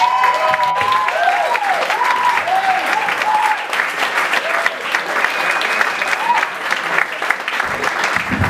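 A club audience at a stand-up comedy show claps loudly and steadily, with whoops and cheers mixed in, and a few voices call out through the ovation.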